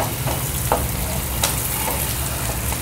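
Onions sizzle and fry in a pan for dahi misal, a continuous crackling hiss broken by a few sharp scrapes or clicks of stirring.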